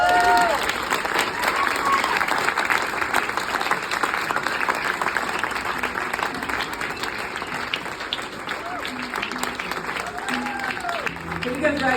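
An audience applauds for a man named Greg, steady dense clapping of moderate loudness with some cheers and voices mixed in.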